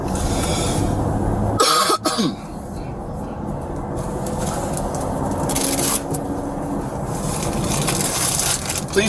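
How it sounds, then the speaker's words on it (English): A single sharp cough bursts out near the microphone around two seconds in, set against a constant broadband road rumble. "Please forgive my cough."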